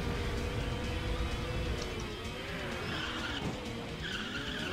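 A blue race car in the racing video game Stunt GP skids and spins out, tires squealing over a steady engine drone and continuous game noise.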